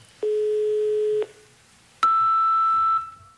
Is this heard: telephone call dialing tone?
yes